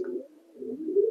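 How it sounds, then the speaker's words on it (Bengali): Pigeons, a top-quality Shatin and American fantail breed, give a soft low coo, one continuous warbling call close by with nothing else around it. "এই পায়রাগুলো সেলের জন্য আছে।"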